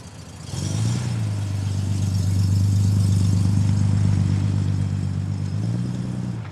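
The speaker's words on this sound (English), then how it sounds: "what's making that wonderful sound? And this car drives past." A Ford Capri drives past, its engine note swelling to a loud, sustained drone, holding for several seconds, then easing slightly as it moves on. Nobody speaks.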